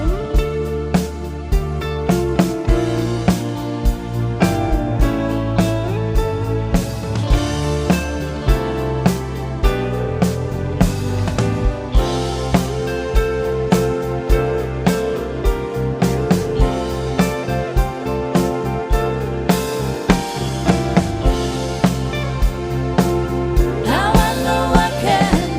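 A Harley Benton Strat-style electric guitar with a Neutrik jack socket, freshly set up, plays a continuous run of strummed chords and picked notes, full and steady for the whole stretch, with no talking.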